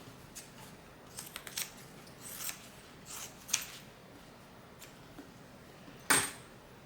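Scissors snipping off excess zipper material during bag making: a handful of quiet, crisp cuts spaced irregularly, ending with one sharper, louder snip, close by with no talking.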